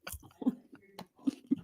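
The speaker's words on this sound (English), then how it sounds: "do you guys hear the crunch?" Close, crunchy chewing of food, with several sharp bites and crunches in an irregular rhythm and quiet gaps between them.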